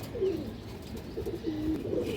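A pigeon coos softly in a few low, throaty phrases close by, over a faint background hum.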